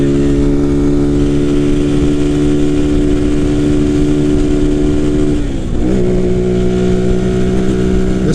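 A motorcycle running a V3 beta tune accelerates to highway merging speed, its engine holding a loud, steady droning hum with layered tones that dip briefly as it shifts, then carries on strongly.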